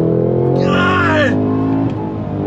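Cadillac CT5-V Blackwing engine roars hard under load with rapid gear shifts, a loud, near, harmonic drone broken by a quick shift, with a person talking over it.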